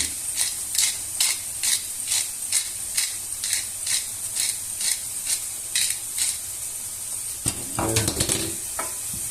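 Meat frying in a pan for coquillettes carbonara, a steady close sizzle with regular scraping stirs; a louder clatter of utensils near the end, no talking.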